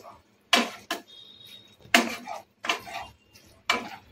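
A utensil scrapes and knocks against a pan while chicken tomato pasta is stirred, in five distinct clattering strokes separated by short quiet gaps, close and without talk.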